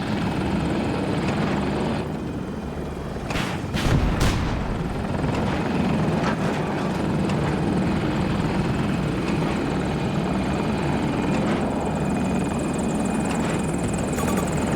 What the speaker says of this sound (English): They've got a helo!